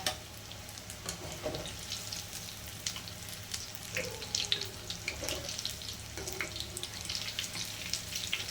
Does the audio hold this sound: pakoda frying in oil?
yes